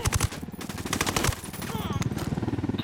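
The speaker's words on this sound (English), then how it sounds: "Shoot the fucker." Rapid bursts of automatic gunfire rattle in Ghost Recon Wildlands, loud and close in quick repeated volleys, with excited players talking over the shooting.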